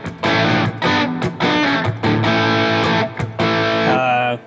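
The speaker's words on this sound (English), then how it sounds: "It's really like a well-rounded Marshall crunch." Marshall JVM 410 green channel crunch modeled on a Fractal FM9, played as an electric guitar riff of chopped, palm-muted chords and ringing notes with short gaps, moderately loud and alone.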